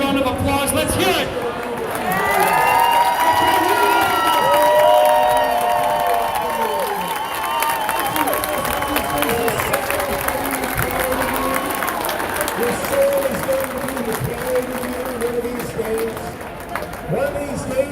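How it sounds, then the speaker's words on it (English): An outdoor crowd at a public event in Seattle cheers, whoops and claps loudly, with shouting voices and babble rising and falling over a sustained roar of applause. "You deserve a round of applause."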